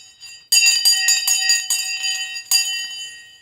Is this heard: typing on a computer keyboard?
no